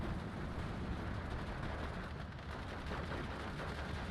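An aircraft bomb run in the WW2 real-time tactics game SD 2, with Hotchkiss and Vickers anti-aircraft guns nearby, makes a dense, continuous roar of blasts and rattling gunfire. It stays loud and unbroken throughout, with no talking.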